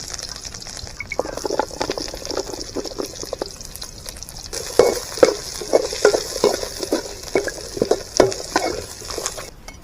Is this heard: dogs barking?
no